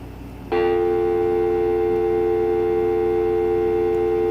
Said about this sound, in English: Can you hear the dial tone perfectly on the speakerphone?